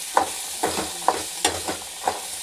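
A spoon stirs food in a pan, scraping in six distinct strokes about half a second apart over a soft sizzle, fairly close and with no talking.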